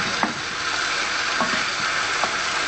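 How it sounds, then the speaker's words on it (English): Salmon fillet, skin side down, frying in a pan with its leftover marinade, giving a steady close hiss with a few soft clinks of a utensil scattered through. "So I put the salmon in the pan and added the remaining marinade to it."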